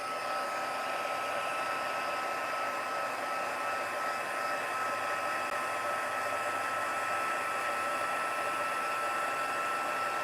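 An embossing heat tool blows steadily over yellow embossing powder on a card, a loud, continuous whooshing hum lasting throughout without a break.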